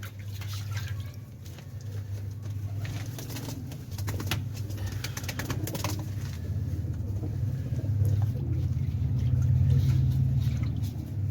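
Racing pigeons coo softly in a low repeated murmur close by, with dripping water, splashes and faint background traffic around them.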